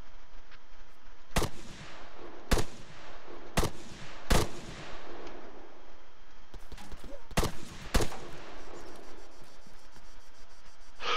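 Sharp single AR rifle shots in the Arma video game, about half a dozen spaced one to two seconds apart, loud and close, with quieter scraping and background noise between them.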